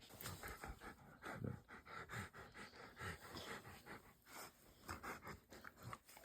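A dog pants quickly and wetly close by, its short rhythmic breaths coming in uneven bursts with a few chewing or licking sounds, fairly quiet and with no talking.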